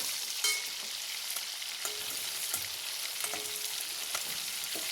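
Paneer cubes frying in hot oil in a pan while being stirred, a steady soft sizzle with occasional scrape and clink of the spatula, close and alone without talk.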